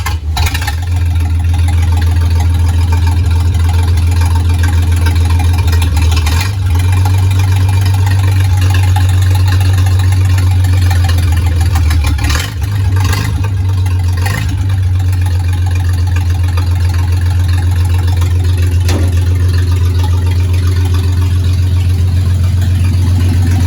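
Engine of a 1952 Dodge M37 truck, unstarted for over ten years, runs loud and close as a steady low idle with a few brief stumbles and no voices.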